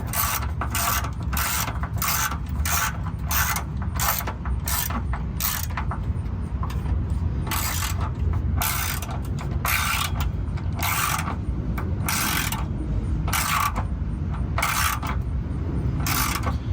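A ratchet clicks in quick, even bursts while tightening the exhaust sleeve clamp on a Volkswagen GTI, each burst separated by a brief pause, loud and close with no talking.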